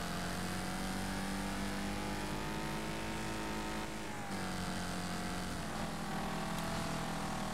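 Race car engine in the Wreckfest racing game, a steady loud drone that holds through the whole stretch, dipping briefly midway before picking back up, with no talk over it.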